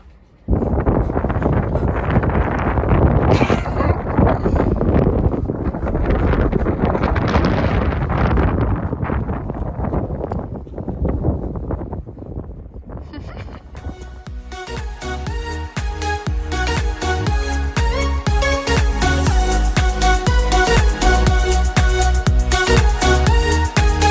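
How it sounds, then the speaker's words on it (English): Strong gusting wind buffets the microphone near a cliff edge in the Badlands of South Dakota, a loud continuous roar that fills the whole clip, with heavy low rumble and irregular surges. "these winds are terrifying and insane because we are literally right near the edge here"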